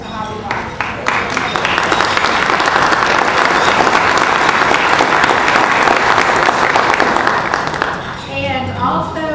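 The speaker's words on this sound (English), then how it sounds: "Big round of applause if you could give to Hobby Lobby." Big round of applause from an audience at an ethics award event, a loud sustained wash of many hands clapping that fades toward the end, with voices audible over it.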